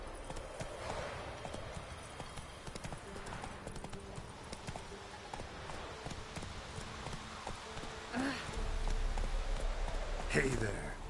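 Roach the horse in The Witcher video game, hooves clip-clopping in a steady rhythm at moderate distance, with a louder burst of movement near the end and a voice in the background.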